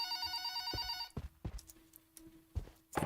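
A telephone ringing in the Backrooms video game, a bright electronic bell ring that stops after about a second, followed by quiet clicks and thuds.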